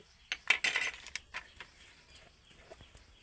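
A spoon scrapes and clinks against a pan while bread-and-milk malai with ghee is stirred, giving a few sharp metallic taps and then softer scattered scrapes, close and fairly quiet.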